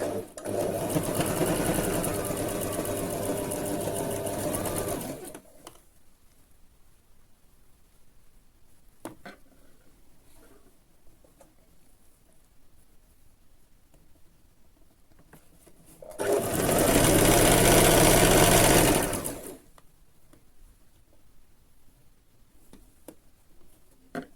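A sewing machine stitches the folded hem of a dress side slit in two loud, steady runs of about five and three seconds, separated by quiet handling of cloth, close to the listener and with no talk.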